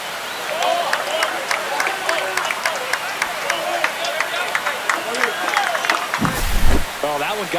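Stadium crowd in the baseball video game MLB The Show 25, Astros versus Athletics, a steady roar of cheering with scattered claps and whistles, swelling briefly near the end under a commentator's voice.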